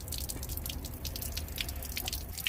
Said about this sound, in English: Should get water coming out of our P tube here.